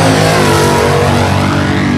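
A 1971 Camaro drag car with a 468 engine and nitrous accelerates off the line at Atco Dragway, a loud, close, continuous roaring engine with dense harmonic growl and no pauses.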